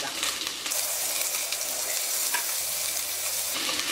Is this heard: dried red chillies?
yes